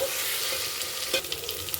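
Peas and ginger garlic paste fry in a tempering, giving a close, continuous sizzle with scattered spoon scrapes and light clicks toward the end.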